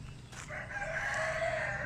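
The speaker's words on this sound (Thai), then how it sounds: "ไก่ชนด้วยค่ะ" A fighting rooster crows once in a long drawn-out call, fairly faint and somewhat distant, over a low background hum on a rural property near fields and a pond in Korat, Thailand.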